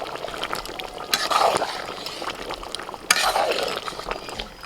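Sour yogurt beaten with salt goes into nearly cooked simmering chicken at an outdoor picnic, with two loud splashing stirs over a constant bubbling sizzle.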